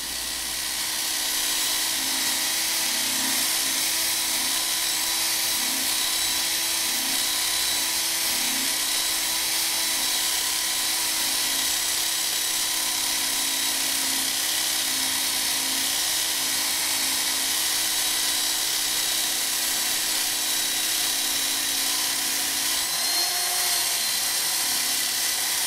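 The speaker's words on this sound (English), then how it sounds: "then I'll start sanding the handle down" Continuous high-pitched whine of a power sander grinding down a WWII bayonet handle steadily for a long stretch, loud and close, with no pauses or voices.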